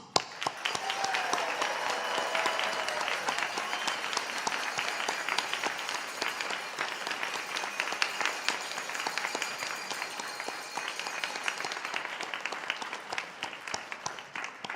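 Sustained applause from a large seated crowd of graduates at a university convocation ceremony, dense steady clapping filling the hall for roughly fifteen seconds before tapering slightly near the end.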